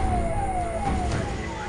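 A wailing emergency siren rises and falls over a dense, rumbling wash of traffic noise, amid burning vehicles and police deployment during unrest in Uttar Pradesh, India.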